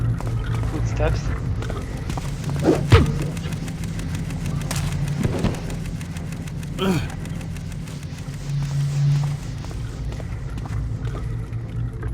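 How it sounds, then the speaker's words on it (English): Footsteps in the video game The Black Parade, a soft repeated tread with a few sharper hits, heard under game ambience and background voices. "I hear footsteps."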